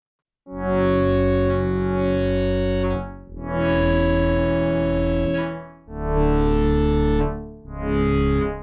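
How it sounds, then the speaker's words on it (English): A Novation Peak synthesizer with overdrive and distortion plays four long sustained notes, gritty and harmonically rich, each swelling and fading with brief gaps between. "And some overdrive and a little bit of distortion."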